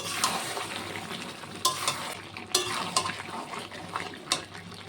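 Chicken cooking in a pan with ground spice mixed in, made with coriander leaves and green chili: steady quiet sizzle under repeated scraping and clinking stirs of a utensil against the pan, no talking.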